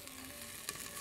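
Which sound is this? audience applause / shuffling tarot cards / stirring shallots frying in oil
stirring shallots frying in oil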